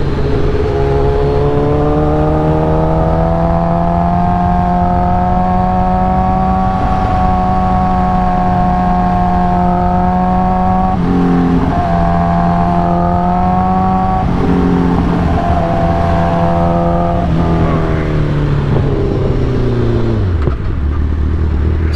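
A 2008 Suzuki GSX-R 1000 fitted with velocity stacks and a new fuel pressure regulator revs loudly and close up, its engine holding a steady high drone that rises and falls in pitch before dropping off at the end.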